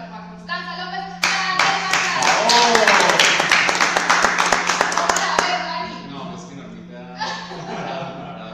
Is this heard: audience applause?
yes